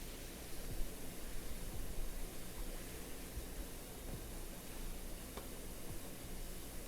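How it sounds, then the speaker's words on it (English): A power washer sprays a moss-covered tunnel, giving a steady, dense hiss of water spray that runs continuously at an even loudness, with no talking. "Start with a nice multi-purpose cleaning spray."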